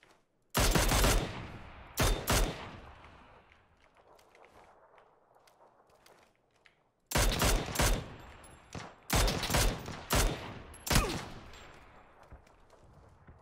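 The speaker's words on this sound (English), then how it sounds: "We're getting shot by two people." Gunfire in the game PUBG comes in loud bursts: a few sharp shots early, then after a quiet stretch a rapid series of close, repeated volleys, with faint footsteps-like shuffling in the lulls.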